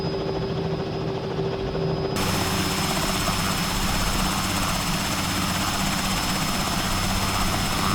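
Robinson R66 helicopter in Microsoft Flight Simulator at a desert airport, a steady loud rotor and turbine drone running throughout, with a quieter start that swells into a fuller engine roar after about two seconds.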